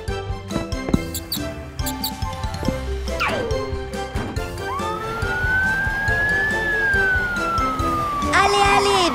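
A fire truck siren in a French children's cartoon about trucks, a long rising and falling wail sounding loud over busy cartoon music and effects.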